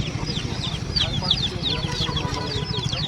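Chickens and roosters cluck repeatedly at a busy rural poultry market in Ahmedpur where fowl and chicks are sold, their clucks layered over a murmur of nearby talk and market bustle.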